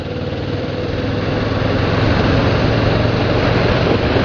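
A Kawasaki Ninja 650R motorcycle engine pulls under throttle, a continuous loud buzzing drone that rises slightly in pitch and volume as it is given more gas.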